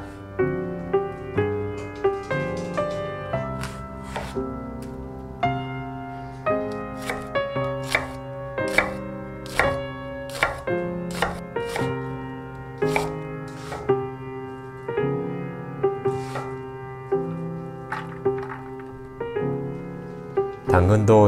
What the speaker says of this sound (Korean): 양파를 1cm 크기로 잘라줍니다.